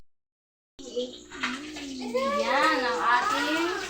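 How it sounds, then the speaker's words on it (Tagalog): Running water splashes as moringa (malunggay) leaves are washed, a continuous rushing pour that starts after a moment of silence, with a voice talking over it. "Hugasan natin ang malunggay."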